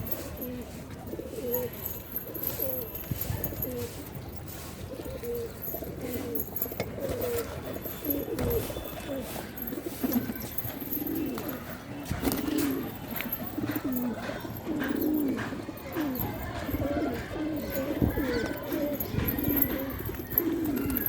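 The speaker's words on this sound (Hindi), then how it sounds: "अबे ये आ गए कबूतर" Pigeons kept for pigeon flying at a loft in Agra coo steadily throughout, a continuous soft rumbling chorus of many birds close by, with occasional wing flutters and faint background voices.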